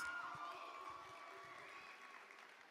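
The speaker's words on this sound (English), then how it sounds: "Let's give her a warm round of applause." Audience applause for a poetry slam performer, steady dense clapping with a few cheers from a crowd, fairly distant and fading slightly over a few seconds.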